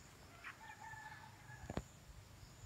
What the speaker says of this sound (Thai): ต่อไปก็เป็นไก่แจ้ซึ่งพันธุ์เล็กนะครับ นี่มันมีทั้งผู้ทั้งตัวเมียนะครับ